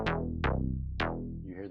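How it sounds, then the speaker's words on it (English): A laser bass preset from the Electra X synth fires three zapping notes with bright attacks that sweep steeply downward over a thick low end, followed by a brief warbling tail, loud and alone. "and it's called laser bass,"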